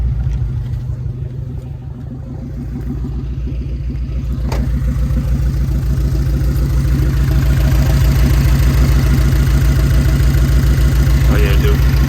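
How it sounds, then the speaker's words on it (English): An idling car engine with a leaking exhaust manifold mounted to the block, a close, steady low rumble with a rapid ticking pulse throughout, growing slightly louder after a couple of seconds. "let's see what it sounds like. See if it still got an exhaust leak"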